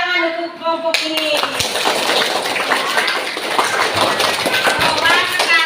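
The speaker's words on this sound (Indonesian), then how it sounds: "berikan aplaus atau tepuk tangan untuk kelompok ini" Children in an Indonesian multigrade classroom break into quick, loud rhythmic clapping that starts abruptly after a brief voice and continues steadily to the end.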